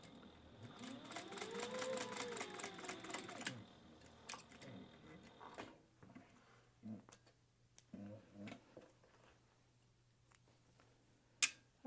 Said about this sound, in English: I'm just going to go ahead and base stitch this in place